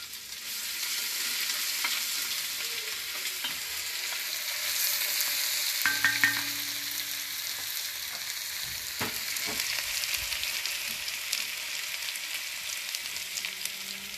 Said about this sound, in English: now they're popping, I'm going to add in the garlic and ginger